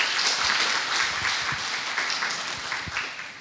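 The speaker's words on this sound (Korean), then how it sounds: "박수 한번 쳐주시면 감사하겠습니다." Audience at a Korean SQL Server community conference claps for event volunteers, a steady dense patter of applause filling the room from start to finish.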